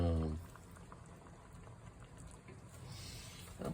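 A dish bubbling at a steady boil in a pot, a continuous close gurgle with a voice briefly at the start.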